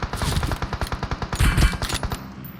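Rapid automatic gunfire from the mobile battle royale game PUBG Mobile on the Erangel map, a loud, close string of evenly spaced shots that rattles on for a couple of seconds without pause.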